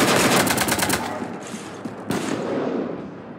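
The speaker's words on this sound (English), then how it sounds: "You want to stop shooting up my ship?" In the Mass Effect 3 game, a loud rapid burst of automatic gunfire rakes a ship and then gives way to a rumbling, decaying wash with a sharp impact near the end.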